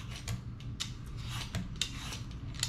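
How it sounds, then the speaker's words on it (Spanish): A vegetable peeler scrapes the skin off a mango for a Colombian fruit salad, giving a string of short, crisp rasping strokes in an uneven rhythm, close and moderately quiet, with no talking. "Para eso vamos a usar un pelador para ayudar a pelar toda la cáscara"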